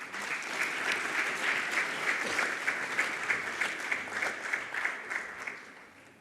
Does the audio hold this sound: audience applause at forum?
yes